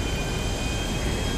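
Steady aircraft engine drone from a plane in flight in the video game GTA Online, a constant, even whir with no voices.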